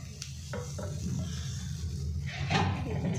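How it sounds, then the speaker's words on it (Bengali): Ingredients frying in ghee for pulao in a large pot at a rooftop picnic, with a steady sizzle and scraping stirs of a spoon against the pan, close and continuous. "ঘি দিয়ে এটা ভাজা হচ্ছে"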